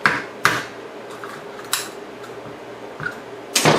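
Lobster claws being cracked with a knife on a kitchen surface for Lobster Newberg: a few sharp, separate knocks and cracks spaced across a few seconds, close and fairly loud, with quiet handling between them.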